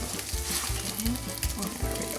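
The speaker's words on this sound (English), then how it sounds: "we're frying them up" Crepes (nalysnyky) sizzle in a frying pan, a steady faint frying hiss with soft low thumps of pan or utensil handling, no talk.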